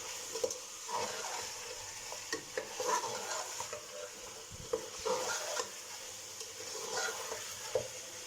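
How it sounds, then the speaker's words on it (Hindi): Beef for Memoni akni fries in a pan over a low-medium flame, a continuous sizzle broken by repeated scrapes and stirs of a spoon against the pan. "और बस अब हमने खूब अच्छी तरह से मीट को करना है फ्राई।"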